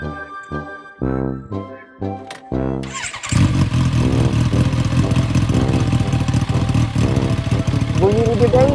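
A motorcycle is kicked over a few times with sputtering coughs, then catches and settles into a loud, steady rattling idle close by, with voices talking over it.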